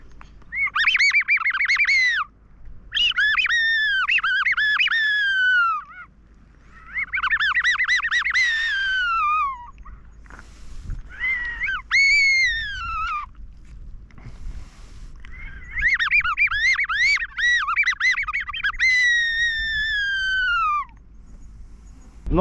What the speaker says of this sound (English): I'm trying to call him in with that fox whistle